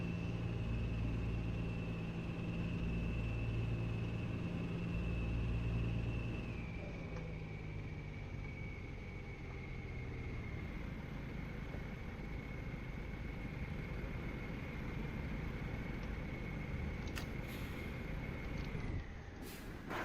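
A car engine in American Truck Simulator's Illinois DLC gives a steady, close droning hum with a sustained tonal whine. It runs unbroken for about twenty seconds, and the pitch shifts slightly down partway through.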